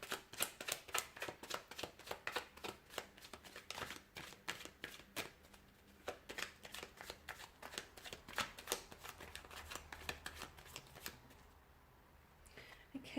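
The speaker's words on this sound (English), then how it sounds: "I'll go ahead and give the cards a shuffle here" Rapid, crisp riffling of tarot cards being shuffled over and over, a steady papery flutter of repeated bursts that fades near the end.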